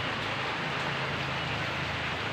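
Steady heavy rain pouring down during a typhoon, a dense continuous hiss with a low rumble underneath, close and unbroken with no voices.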